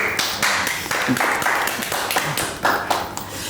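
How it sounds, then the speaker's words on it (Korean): An audience at a Buddhist monk's counselling talk claps briefly, with several bursts of close, uneven hand claps and short pauses between them, with no talk over them. "네, 박수."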